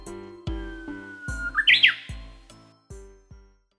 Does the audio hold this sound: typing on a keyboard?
no